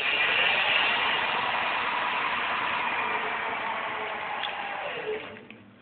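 An electric hub motor spins a bicycle wheel with a slightly wobbling tire on a stand, giving a steady, fairly quiet whine that holds level and then fades as the wheel winds down near the end.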